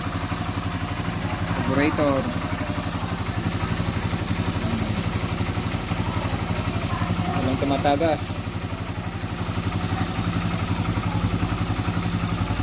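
A motorcycle engine with a freshly tuned carburetor idles with a steady, close putter, with two brief clattering bursts, as someone talks over it.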